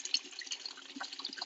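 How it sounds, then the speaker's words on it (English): Nutrient solution cascading back down through the drain outlets of hydroponic grow buckets in a flood-and-drain system, a faint, close trickle of water with irregular small splashes and drips. "the nutrient solution is running up through the inlets, causing the water level to rise in the buckets, then cascading back down through the drain outlets"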